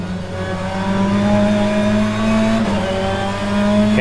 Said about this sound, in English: Okay, let's use the rest of our hybrid that we have from the lap and see if we can stick close to Hamilton